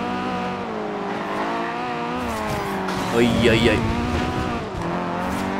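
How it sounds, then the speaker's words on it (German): A Renault Clio drives in the racing game Forza Horizon 2, its engine droning steadily with rising and falling pitch, a brief tire squeal midway, while someone talks over it. "Wir fahren das Renault Clio."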